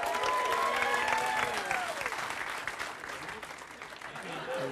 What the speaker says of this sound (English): A round of applause as Martin joined us on the stage.